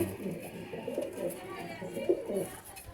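Punjabi Malbai pigeons coo in low, repeated murmuring phrases at close range, with a steady background of faint noise throughout.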